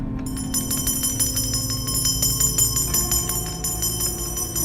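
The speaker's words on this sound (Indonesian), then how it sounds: "Kalau kakek udah bunyiin lonceng" A bell rings repeatedly in a quick, steady rhythm, its bright metallic strikes ringing on over a constant low background hum.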